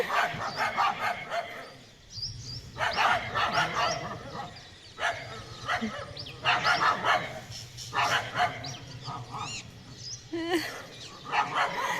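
Several village dogs bark and yip in bursts at a stranger dog from the next street, loud and close, with overlapping barks repeating throughout a night scene.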